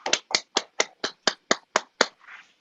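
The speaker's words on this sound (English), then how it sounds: "Give him one more round of applause." Claps for an honoree at a 2022 honors recognition ceremony sound as nine sharp, evenly spaced beats close to the microphone, ending with a softer trailing rustle.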